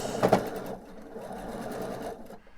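A sewing machine stitches a quarter-inch seam joining small fabric triangles into diamonds for a pillowcase, a brief close whirring run with a louder burst at the start before tapering off.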